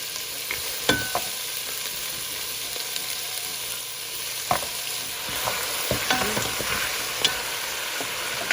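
Boiled beef feet fry in a pot for soup, with a steady low sizzle broken by sharp clicks and knocks as a utensil stirs and scrapes the pot, close up and with no talking.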